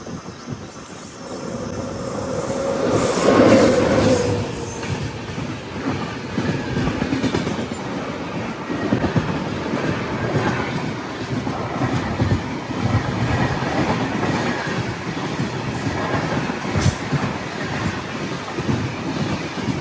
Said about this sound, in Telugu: ఇంకా ట్రైన్ కూడా మంచి స్పీడే పోతుంది